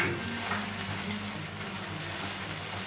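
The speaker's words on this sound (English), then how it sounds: "And for few minutes I stir well properly." Mutton curry sizzles steadily in a pan as it is stirred restaurant-style, a continuous close frying hiss with low rumbling undertones and no talking.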